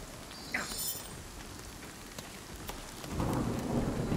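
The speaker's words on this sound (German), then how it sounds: "Ich weiß, ich krieg Schaden durch den Regen." Steady rain in the video game Nightingale pours down with a thunderous rumble, swelling heavier and louder near the end, with no voices.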